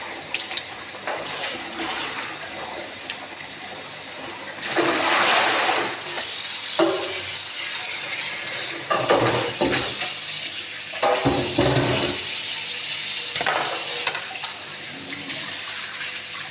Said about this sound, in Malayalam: ഇറച്ചി ഒന്ന് കഴുകുക അരി ഒന്ന് കഴുകുക